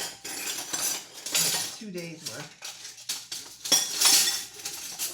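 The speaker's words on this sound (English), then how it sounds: "I'm going to talk while I do dishes." Dishes being washed by hand at a kitchen sink: cutlery and pots clink and clatter in irregular bursts, close and fairly loud, with someone talking over the sounds.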